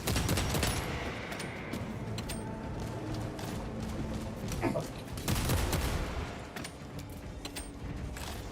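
Bolt rifle in the Space Marine 2 video game, fired from the hip in dense, rapid volleys of sharp bursts with mechanical clanks, continuing through the clip at moderate distance.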